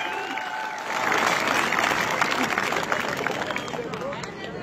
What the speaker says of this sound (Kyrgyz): Кол чабып коюңуздар туғандар.